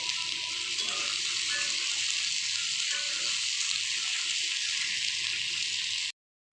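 Loud steady sizzling as water hits spiced oil in a pan with cauliflower and potato curry frying, a continuous hissing wash with faint bubbling, then an abrupt cut to silence at the end.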